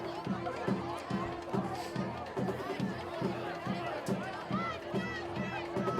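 Crowd noise from a full home-and-visitor bleacher crowd at a night high school football game between Durfee and Barnstable at Mac Aldridge Field, a steady murmur of chatter with a repeating rhythmic drum-like thump underneath.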